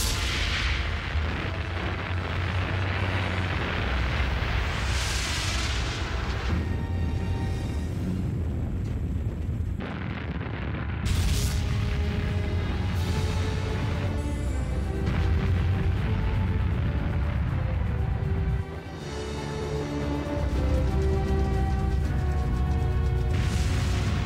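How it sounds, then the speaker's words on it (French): Space shuttle Atlantis lifting off, a loud, continuous roaring rumble that swells and persists, with brief shifts and dips in intensity along the way. "Atlantis a décollé"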